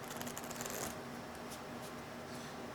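Rapid papery riffling of cards in a brief burst at the start, then a softer steady rustle with faint clicks continuing throughout.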